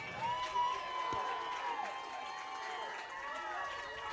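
A crowd cheers at Torbert Field on a cool night as the Chambers Academy Rebels take the field for a first-round playoff game. The cheering is a steady wash of crowd noise with sustained tones running through it.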